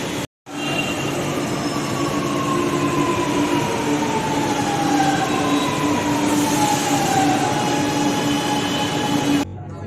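A train rumbles steadily through a Chennai metro railway station, with a continuous droning hum, faint metallic squeals and wheel noise, loud and close throughout.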